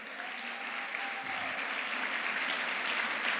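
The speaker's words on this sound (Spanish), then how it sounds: "Denle un aplauso a Jesús esta tarde" A church congregation applauding during an afternoon sermon, a dense, even wash of clapping that fills the room, with a brief trace of voice near the start.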